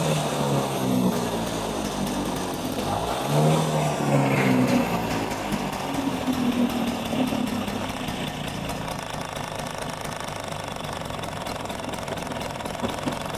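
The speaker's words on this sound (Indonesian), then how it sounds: "Coba kita dengerin dulu rintian mesinnya." A Vespa PS scooter engine runs steadily at idle, a buzzy rattling putter that wavers a little near the start and then settles.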